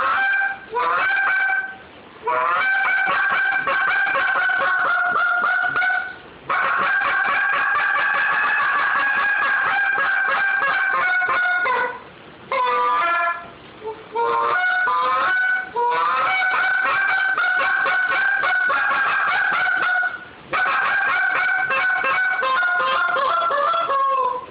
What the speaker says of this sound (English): So this is the serial killer short breed goose